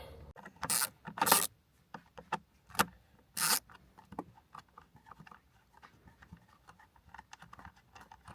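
T15 bolts are being taken out of the interior of a 2019 Corvette Z06 C7. Close, sharp metallic clicks and scrapes come in scattered bursts, then soft rubbing and fiddling, with no speech.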